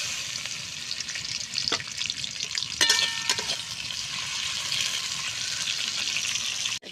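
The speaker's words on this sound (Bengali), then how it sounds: "দেখো মাছটা এবার আমি তেলে দিয়ে দিচ্ছি।" Prawns frying in hot oil tempered with garam masala, cinnamon, cardamom, cloves, bay leaf, cumin and dried chili, a continuous bright sizzle with a few crackling bursts and clatters in the middle, no voices.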